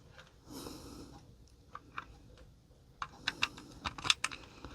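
Scattered clicks of keys on a computer keyboard, sparse at first and then quicker, after a soft breath near the start.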